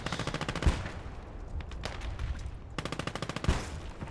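Automatic gunfire in the World War II game Gates of Hell Ostfront comes as rapid, rhythmic bursts of shots, with heavy booming reports and a scattered fusillade in between. The shooting is loud and close, with no talk over it.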